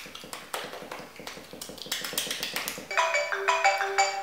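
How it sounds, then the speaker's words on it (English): Electronic phone ringtone plays a repeating melodic pattern in a home kitchen, loud and close, with steady rhythmic tapping underneath before the ringing takes over near the end. "I can't answer the phone right now!"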